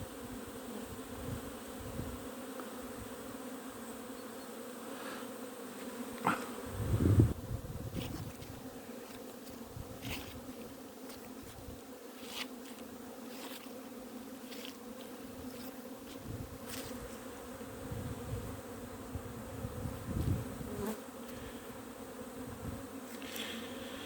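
Honeybees buzzing around hives on their first winter cleansing flight on 1 January, in mild weather near freezing, a steady dense drone of many bees with occasional louder passes close by and no talk.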